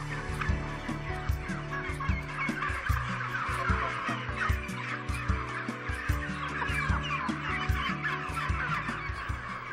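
Turkeys on a Mennonite turkey farm in Belize gobble repeatedly in a dense, overlapping flock chorus, frequent sharp calls rising over a constant bed of clucking and farm noise, with no voices.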